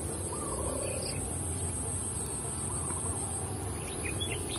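Oriental magpie-robin nestlings and a parent bird call from a nest outdoors, thin high chirps and short calls over a steady background hiss, faint and intermittent.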